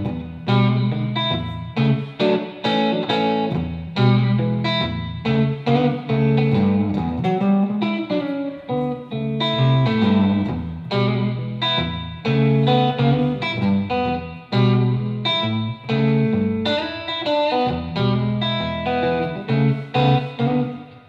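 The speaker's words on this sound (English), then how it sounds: "That distortion is just the amplifier." An electric guitar plays through a distorted, overdriven Traynor tube amp, with crunchy, gritty chords and riffs and a touch of echo from a delay modeler, loud and continuous.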